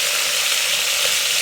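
Mutton roasting in a hot pressure cooker for a desi mutton curry, a loud, close, continuous sizzle and spatter throughout, with no voices.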